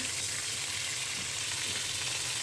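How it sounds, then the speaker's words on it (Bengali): Parboiled cauliflower is lightly frying in a pan, giving an even, continuous hiss and crackle at close range throughout, with no speech. "অল্প ভেজে তুলে নেব। সামান্য ভাজবো, পুরো ভাজতে যাব না।"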